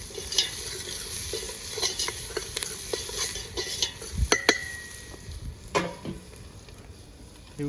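Onion cooking in a pot over a wood-fired chulha with turmeric and salt, with faint sizzling under repeated stirring scrapes and a few sharp metallic clinks of a spoon against the pot.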